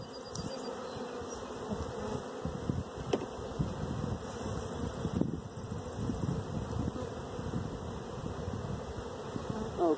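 Honeybees buzzing steadily at an open hive during a frame inspection of a swarm-ready colony, a dense continuous drone close by with faint handling knocks and no talk.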